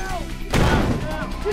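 A sudden heavy blast from a grenade explosion bursts in mid-clip, followed by a rumbling decay, amid tense combat shouting and radio chatter.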